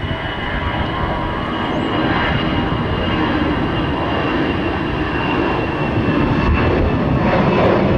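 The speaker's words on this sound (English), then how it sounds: "It's the minibus, the A319, the short, stubby, but gets the job done airplane." Airbus A319 jet engines roaring steadily at close range at Tampa International Airport in rain spray, a loud broad rumble with a high whine, no talking.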